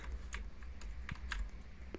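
A short burst of scattered keystrokes on a computer keyboard as a word is typed into a game, close and moderately quiet over a low background rumble.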